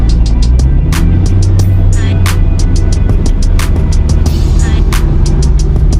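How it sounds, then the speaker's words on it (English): The engine of a 2005 Ford GT supercar roars loudly and continuously from inside the car during a ride along, a dense rumble with repeated sharp clicks or ticks over it, and voices faintly underneath. "Ford GT, American supercar."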